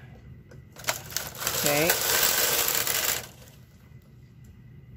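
A sewing machine stitches in one loud, steady run lasting about two seconds, with a brief whirring pitch glide partway through and a short spoken word heard near it.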